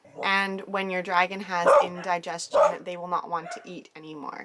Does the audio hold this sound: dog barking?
yes